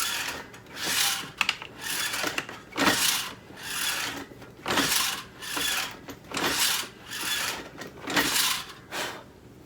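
Reloading press crimping a 12 gauge AA shotgun shell hull with an 8-point crimp, giving a series of repeated raspy, scraping strokes in a steady rhythm, close and moderately loud, with no talking.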